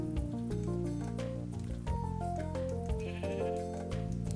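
A sheep bleats in the Minecraft video game, a wavering call heard over continuous background game music.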